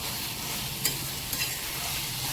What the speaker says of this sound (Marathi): पनीर हे तेलात फ्राय होऊ द्यायचं एक पाच मिनटं